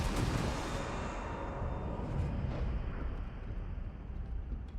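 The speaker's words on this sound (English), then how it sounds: "How big is the explosion going to be?" A huge fiery explosion in the video game DOOM: The Dark Ages, a dense roaring rumble that bursts loud at first and then sustains as a heavy, slowly fading blast with no voices.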